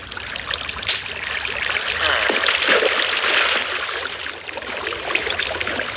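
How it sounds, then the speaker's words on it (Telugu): Water flows and trickles down blocks in a crafting and building video game, a steady bright splashing stream with a few soft splatters, moderately loud and unbroken throughout. "ఇప్పుడు ఈ వాటర్ ఎక్కడ దాకా వెళ్తాయో చూస్తాం."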